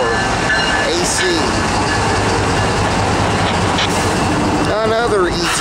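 A Norfolk Southern rock empties freight train hauled by ET44AC locomotives rumbles past at close range, loud and continuous, with clattering wagons and a brief squeal of wheels.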